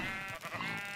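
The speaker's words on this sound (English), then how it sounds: "Here are all the sheep." A sheep in the Minecraft video game gives a single clear, close bleat lasting about a second, with no talk over it.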